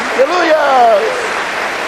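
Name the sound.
applause in a church congregation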